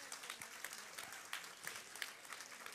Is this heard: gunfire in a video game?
no